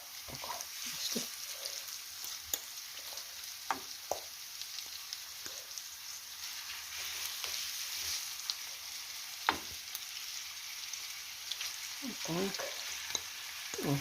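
Minced meat frying in a pan for a casserole, a continuous hiss and sizzle with scattered scraping and tapping as it is broken up with a fork.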